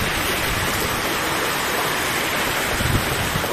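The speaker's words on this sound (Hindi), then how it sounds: "बहुत तेज आया पानी, ये देखो बहुत तेज़ी से गिर गया है" Heavy rain pours down in a dense, steady, loud hiss of close downpour that holds evenly throughout, with no voices.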